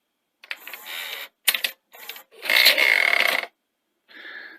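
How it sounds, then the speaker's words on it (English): Mechanical grinding from the loading gear of an Osaki VCR34H VHS video recorder, coming in several separate whirring, scraping bursts of varying length, close and fairly loud, with short silences between them. "There is a bit of a grinding, and it's actually coming from this loading gear here."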